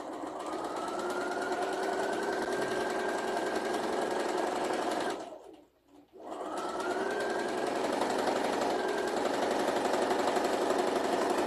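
A sewing machine stitches a quilt seam on a Coral Cove quilt block, running in a fast, steady whir that stops for about a second midway, then starts again.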